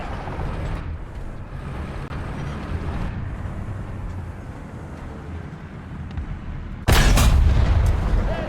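A tank cannon fires once in War Thunder, a sudden loud boom cutting in near the end over a steady rumbling engine drone.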